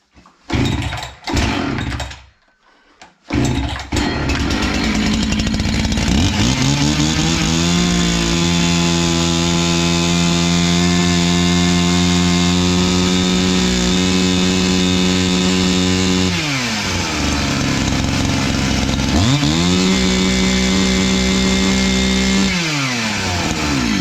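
A Husqvarna 61 chainsaw under repair for a chain that won't oil starts after a few rough pulls, then runs loud and steady with an idle-to-rev pitch rise, drops briefly near the end and revs back up, with no talking.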